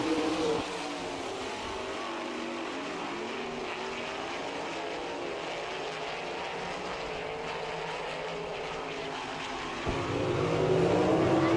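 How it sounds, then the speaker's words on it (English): Sprint race cars at the Attica, Ohio All Star Circuit of Champions track building revs at the green flag: a continuous loud engine roar from the pack that swells sharply near the end. "They start to build up the RPMs. They're in it. We're green."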